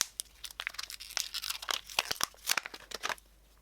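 A razor blade slits a thin plastic cup mould, and the plastic is then peeled off a cast resin and burl blank, making a close, busy run of crackling, crinkling and tearing with sharp snaps throughout.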